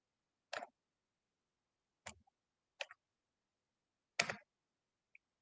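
A few separate keystrokes typed on a computer keyboard while entering code, four short isolated taps spaced irregularly over several seconds, fairly faint in an otherwise quiet room.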